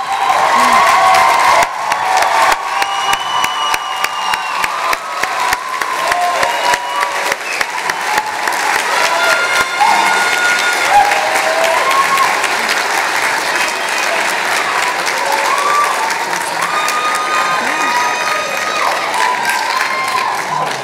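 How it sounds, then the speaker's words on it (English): Graduates at an achievement celebration stand and clap for themselves, a long, dense round of applause from a large crowd with scattered cheers, lasting well over twenty seconds and easing slightly toward the end. "stand up and applaud yourselves."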